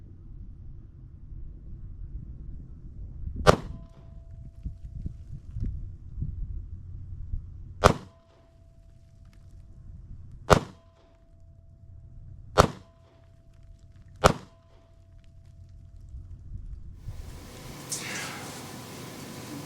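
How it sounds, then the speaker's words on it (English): Five sharp gunshots from a subcompact Glock firing 9mm Federal HST 124-grain rounds ring out at irregular intervals, each a loud crack with a short ringing tail over low outdoor rumble. "This is 9mm Federal HST 124 grains out of a subcompact Glock"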